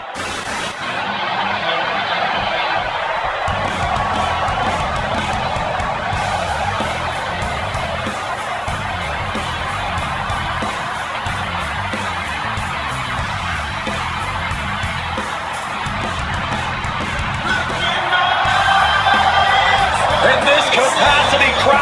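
Arena crowd in the WWE 2K26 game roars loudly and continuously for CM Punk versus Seth Rollins on RAW, the dense cheering swelling even louder near the end while a commentator talks over it.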